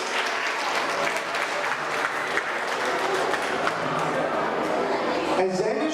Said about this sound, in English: a round of applause to our graduates